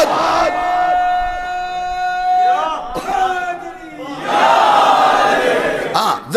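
A congregation at a Muharram majlis chants a slogan together, loud, massed voices rising in waves with a preacher's voice audible between the chants.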